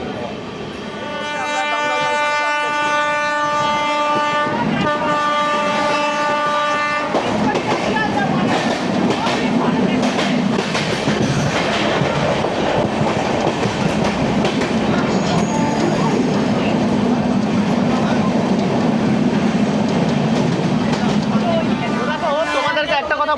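The Amrit Bharat Express rolls through Dum Dum Junction, its heavy rumble and clickety-clack of wheels steady and close, with a horn-like tonal passage early on and a person talking over it.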